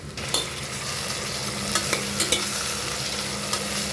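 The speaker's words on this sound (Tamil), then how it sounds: "வெங்காயம் நல்லா பொன்னிறமாக வதங்கிட்டு இருக்குங்க" Steady sizzling of onions frying in a pan, with a few sharp scraping stirs of a utensil scattered through; no voices.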